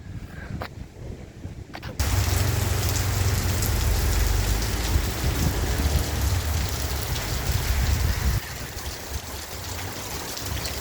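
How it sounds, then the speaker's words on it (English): Heavy rain pours down steadily in Caaguazu, central Paraguay, in a dense, loud roar, growing heavier after a quieter opening and easing slightly near the end. "Pouring down in Caaguazu. The rain's been on for about 20 minutes now."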